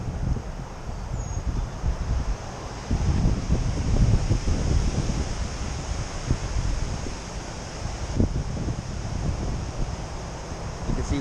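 Strong, sustained wind from tropical storm Nicholas roars and buffets the microphone near the coast, swelling into louder gusts and easing again, with faint voices underneath.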